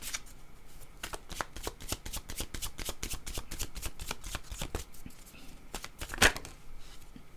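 A deck of oracle cards is riffled and shuffled by hand in a quick, steady run of crisp flutters up close. A single sharper snap near the end breaks the pattern.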